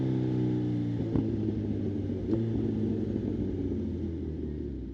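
A Kawasaki ZH2 motorcycle hums along at a steady engine drone while riding, close and fairly loud, with two faint clicks partway through and no voices.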